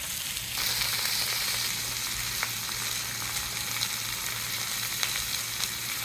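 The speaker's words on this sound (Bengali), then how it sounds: "আমার পটলটা ভালো করে ভাজা হয়ে গেছে" Pointed gourd fries in hot oil without turmeric, giving a steady close sizzle and bubbling hiss with a low hum beneath and a few faint clicks.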